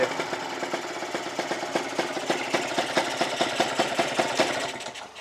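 A pink Kawasaki KR two-stroke motorcycle with a modified tank and open carburetor runs steadily, its rapid, raspy engine pulses close and loud throughout with no talking.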